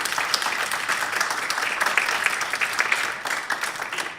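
An audience at a Sunday Lectio Divina gathering claps, a moderately loud, continuous round of applause with steady texture that tapers slightly at the end.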